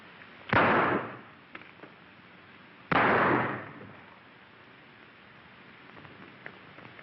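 Gunshots in a gunfight from an old western movie: two loud, sharp blasts about two seconds apart, each trailing into a brief echoing decay, with faint background noise between them and no talking.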